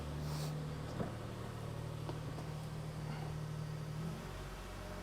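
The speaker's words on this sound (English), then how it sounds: "I'm going to rev it up" A car engine being revved toward 3,000 RPM during knock sensor diagnosis for fault code P0333, a steady droning engine hum that holds its pitch, then drops back near the end.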